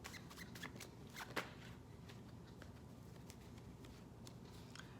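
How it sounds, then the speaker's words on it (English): Tarot cards being shuffled by hand, a steady close run of soft riffling and patter with one sharper snap near the middle, heard alone without talk. "I wasn't done shuffling like at all really"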